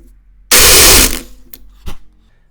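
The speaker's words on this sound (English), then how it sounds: "That's where I'm actually grinding," A valve seat ground in the engine of a Case 311 tractor, a loud, dense half-second burst of abrasive whirring that fades out, then two brief clicks or knocks, with no talk.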